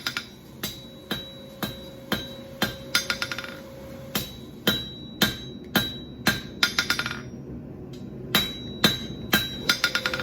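Hot steel fresh from the forge is struck with a hammer in a steady series of sharp, ringing blows, some in quick bursts, each leaving a short metallic ring.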